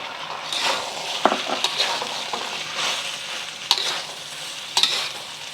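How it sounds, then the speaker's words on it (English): Cashew chicken sauce simmers in a pan while being stirred, a steady close sizzle running throughout with several sharp scraping clicks from the utensil against the pan. "just until the sauce thickens and is simmering and bubbly. Okay, and adding the cashews."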